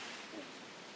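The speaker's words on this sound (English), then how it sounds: "The sound of the waves soaked into my ears." Roaring ocean waves crashing in a storm within the visual novel game Umineko When They Cry, a steady broadband wash of surf at moderate level with no break across the short span.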